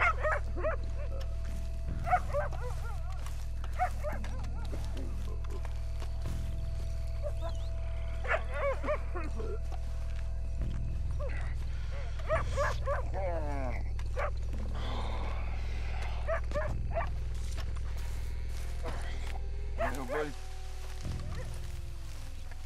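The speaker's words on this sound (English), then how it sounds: "Shut up, dog." Dog barking and whimpering in the Red Dead Redemption 2 video game, short yips and whines scattered across a steady low hum of game ambience, with someone talking over much of it.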